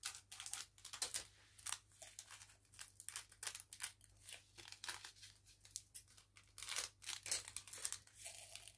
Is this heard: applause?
no